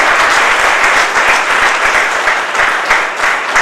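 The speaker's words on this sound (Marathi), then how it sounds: "खुशबू देवीसाठी जोरदार टाळ्या" Loud, steady applause from an audience at a college foundation day event, a dense crowd clapping for a student honoured with a merit award, sustained without pause.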